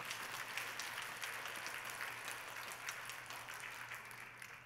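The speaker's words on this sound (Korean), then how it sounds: "자, 박수 한번 보내주시기 바랍니다." A church congregation at Pyeongtaek Full Gospel Church claps together during a Sunday worship service. The applause is steady, dense and even, heard at a distance and fairly soft, with no voices over it.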